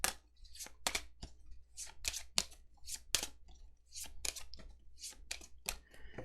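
Playing cards are shuffled quickly at a tabletop game, a series of crisp riffling and snapping bursts in uneven rhythm, close and fairly quiet.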